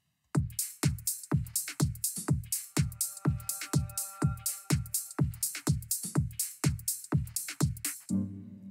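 A future garage drum beat pairs a steady four-to-the-floor kick with shaker-like hats on every off beat, over faint sustained chord tones. The pattern repeats evenly, with a brief different sound at the end.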